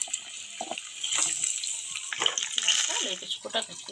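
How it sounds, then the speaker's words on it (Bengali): Dried fish pieces are rinsed in hot water, a steady splashing, running-water wash heard close up, with a voice murmuring faintly underneath. "শুটকিটা কাটা হয়ে গেছে, আমি কিন্তু এটা গরম জলে ধুয়ে নিচ্ছি"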